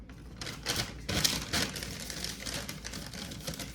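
Freshly harvested herbs get pushed back into a bag with small airing holes, giving a run of crisp rustling and crinkling bursts close by, with no talking.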